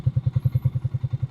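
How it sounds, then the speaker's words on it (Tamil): A Triumph Speed T4 350cc motorcycle engine idles close by, giving a steady, even thumping pulse at about nine beats per second, loud and alone. "Idol sound."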